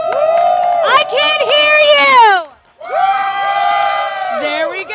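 A live crowd at a Yu-Gi-Oh! trading card game championship tournament cheers and whoops loudly, with a brief lull before the roar swells again and holds steady.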